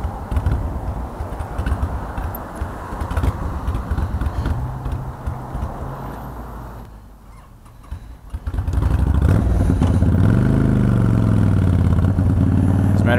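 A motorcycle engine struggling at idle runs rough and uneven, sputtering and faltering, then revs up into a steadier, louder throb.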